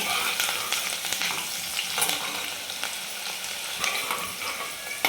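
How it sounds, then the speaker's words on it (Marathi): Onion frying in a pan, a steady loud sizzle with scattered crackles and occasional stirring scrapes, continuous and close with no voices. "तर कांदा छान तळून झाला आहे आपला"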